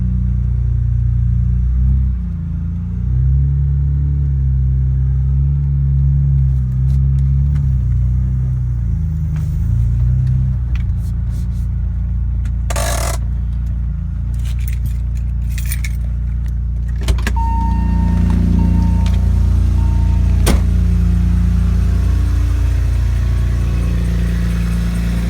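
A BMW E46 M3 convertible with its inline-six engine sits running at a low, steady idle, with keys jangling and handling clatter near the start and later rumbling as the engine revs briefly.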